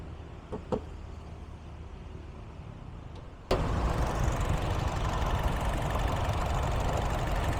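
Engine of a 2017 Honda Brio Satya E CVT with about 19,000 km, idling with a steady low hum that is faint at first, then jumps suddenly louder and closer and holds an even, continuous drone.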